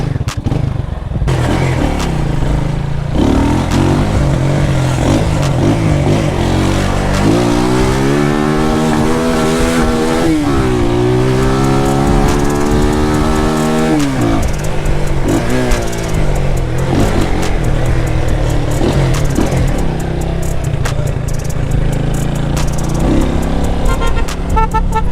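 A Zamco 250 motorbike does a loud tire burnout, its engine revving hard and rising and falling in pitch over a sustained roar, the rear tire spinning against the ground close by.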